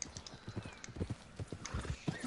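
A horse gallops in the video game Red Dead Redemption 2, its quick, steady hoofbeats faint and thudding under soft ambient game sound.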